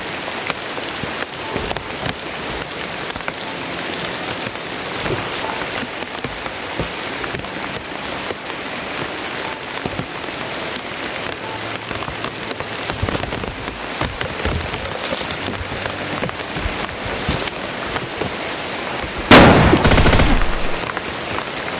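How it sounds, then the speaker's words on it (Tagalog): Heavy rain pours steadily with a dense, unbroken drumming, and a brief louder gush near the end. "Grabe ito ng lakas ng ulan."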